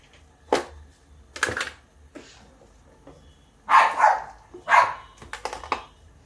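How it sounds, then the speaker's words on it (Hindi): A dog barks several times in short bursts, some close together, with quiet pauses between them. "देखिए डाग है, वो चिल्ला रहा है।"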